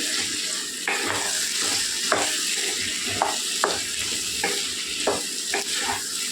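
Chili powder being stirred into a brinjal and potato curry in a pan, a continuous sizzle with regular scraping strokes of a spoon repeating roughly every second.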